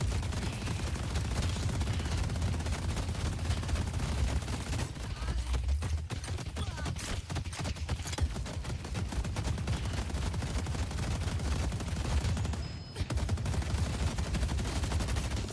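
A sustained barrage of turret gunfire in the mecha combat game Mecha Break, forming a dense, continuous rattle of rapid shots that holds steady throughout with only a brief dip near the end.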